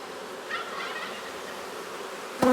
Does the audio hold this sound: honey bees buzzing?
yes